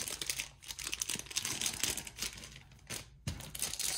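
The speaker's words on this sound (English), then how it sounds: "So let me open it up so we can get our packs out" Crinkly plastic foil wrappers of Pokémon Brilliant Stars trading card packs being torn open and handled, a dense, close, continuous rustle and crackle with a few sharp rips, no talking.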